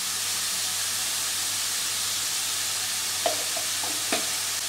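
Ash gourd frying with turmeric in a pan makes a constant, even sizzle and hiss, with a few soft utensil taps near the end.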